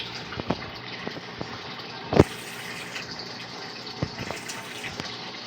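Water flows steadily out of a concrete pond filtration system, a continuous close gush with a few sharp splashes and knocks breaking through the rush.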